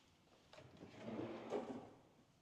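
A soft-close kitchen drawer glides shut in a quiet room, a faint smooth slide that swells over a second and eases to a gentle stop without a bang.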